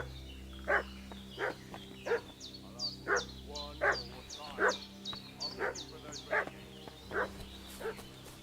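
A dog in the video game Kingdom Come Deliverance 2 barks repeatedly in an irregular series of sharp, fairly close barks over a low steady background hum.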